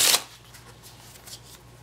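A Pluma playing card deck gets a quick riffle shuffle, a short burst of crisp card flutter at the start followed by faint rustling and a soft tap, close and alone.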